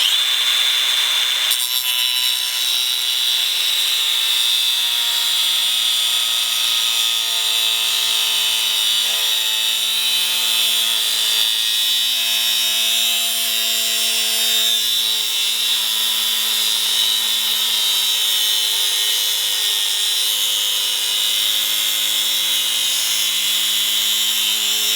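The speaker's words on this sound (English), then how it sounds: "This is 1/4" steel, and I'm gonna use this cutting blade right here." A DeWalt 20V MAX 4.5-inch angle grinder with a thin steel-cutting disc slices through quarter-inch steel, giving a loud, sustained high-pitched whine and grinding screech that holds steady for the whole stretch, with no voices.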